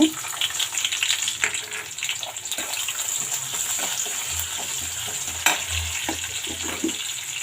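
Cumin seeds and green chilies fry in a little oil with a crackling sizzle, close by. A spoon scrapes and clinks against the pan now and then, and there is no voice.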